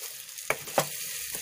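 Curry leaves and chilli powder stirred in hot oil over a low flame for a Bengali potato curry, with two sharp spoon scrapes over a soft, steady sizzle and one fainter scrape near the end.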